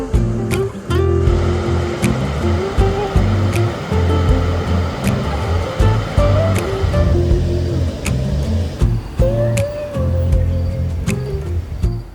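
A river in Takayama, Japan, at dusk, where locals come to unwind, flows in a steady broadband rush that stays even and continuous throughout, with faint clicks and distant background sounds scattered over it.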